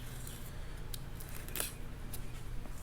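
Scissors cut open the packaging of a Boom Racing BRX02 Land Rover Series III 109 RC model, a faint series of small snips and crinkles over a steady low background hum.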